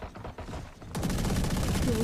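Video game gunshots: quieter scattered shots, then a sudden burst of loud rapid fire that continues to the end.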